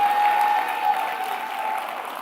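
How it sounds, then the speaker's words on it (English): A conference audience at a closing ceremony applauds the Foreign, Commonwealth and Development Office. Sustained, even clapping from a large crowd carries a faint steady tone and slowly tapers toward the end. "A round of applause for the support they have given."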